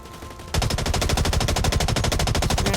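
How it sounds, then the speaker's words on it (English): Rapid automatic gunfire in the video game Blacklight Retribution, a loud continuous burst of evenly spaced shots that starts abruptly after a short quiet moment and runs unbroken to the end. "Randomly shooting."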